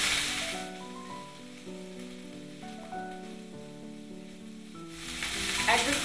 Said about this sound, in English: I am going to add cottage cheese cubes,